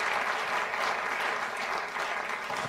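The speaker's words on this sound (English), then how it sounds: "A big round of applause to you all." A studio audience claps steadily and densely throughout at the end of a Bloomberg TV debate, a sustained round of applause filling the room with no talk.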